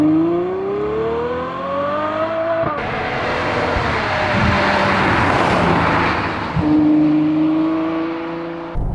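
A Ferrari 812 Superfast's 6.5-litre V12 revs hard through rising gears, its howl climbing in pitch with brief shift breaks, loud and close, with no talk over it.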